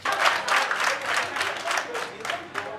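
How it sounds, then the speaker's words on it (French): Audience applause at a social-aid ceremony for orphaned exam candidates in Abomey-Calavi, Benin, lively and uneven with distinct clap bursts, fairly close and loud. "que je vous demande d'applaudir très fort"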